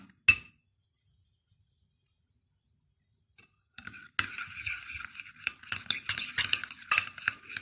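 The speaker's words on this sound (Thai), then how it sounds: "คือเวลาเราผสมกันนะคะ เราคนจนให้มันเป็นเนื้อเดียวกันเลยนะคะ" A spoon stirs a hair mask of cream and coconut oil in a bowl, giving a single clink, a long quiet stretch, then a rapid run of light scraping taps and clicks, close and crisp.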